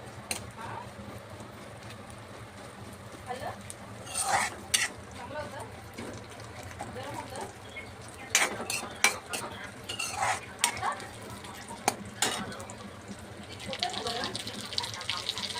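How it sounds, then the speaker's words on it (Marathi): Dry fruits fry in ghee in a pan for ukadiche modak, a soft sizzle broken by spoon scrapes and metallic clinks against the pan as they are stirred. "हे ड्रायफ्रूट असं छानसं आपण तुपामध्ये त्याला तळून घ्यायचं आहे"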